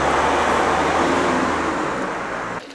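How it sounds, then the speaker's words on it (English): Road traffic passes outside a house with century-old sash windows, a steady broadband rumble of a vehicle going by that fades slightly before cutting off abruptly near the end. "because you get a fair bit of traffic along"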